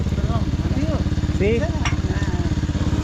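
A motorcycle engine rumbles steadily nearby at a low, even idle as it pulls up, with a brief voice speaking over the constant harmonic drone.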